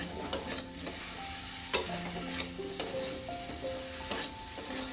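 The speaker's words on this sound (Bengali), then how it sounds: "আমি আরো মিনিট 2 মশলাটাকে কষিয়ে নেব" Spice paste for a bottle gourd and prawn curry fries and gets stirred in a pan: a quiet steady sizzle with intermittent spatula taps and scrapes, close and without talking.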